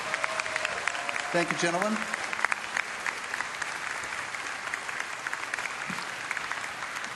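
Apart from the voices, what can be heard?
audience applause at BlizzCon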